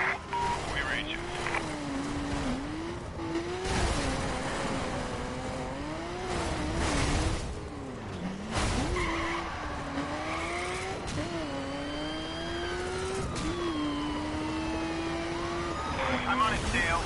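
Video game car chase with engines revving and tires skidding in repeated swooping squeals, steady and fairly close, under radio-style dialogue.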